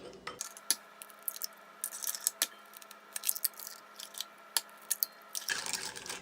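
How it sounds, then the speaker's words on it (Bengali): Eggs are cracked into a blender for a caramel pudding, heard as a run of small, close taps and wet drips against the container, with a louder clatter at the end. "ব্লেন্ডারে আমি একটু একটু করে এগ ভেঙে দিয়ে দিচ্ছি।"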